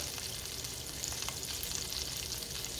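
French toast fries in a skillet with a steady, close sizzling crackle that goes on throughout, broken by a few faint scraping stirs. No one speaks.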